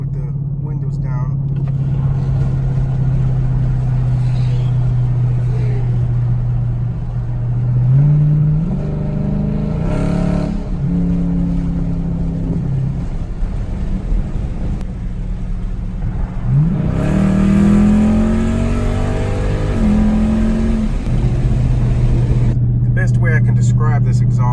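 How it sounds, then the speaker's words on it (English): A Dodge Challenger Scat Pack 1320 with an Outlaw exhaust drones at a low, steady cruise from inside the cabin, with two throttle rises that sweep the pitch upward before settling back into the hum. "this exhaust during regular driving sounds pretty much like the Scat Pack Charger"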